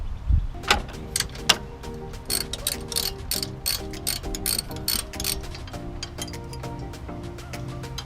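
A hand ratchet clicks steadily as bolts come out of a support bracket on a fourth-generation Toyota 4Runner. The clicks are close and come in short runs, with occasional metallic clinks.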